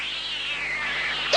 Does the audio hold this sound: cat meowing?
yes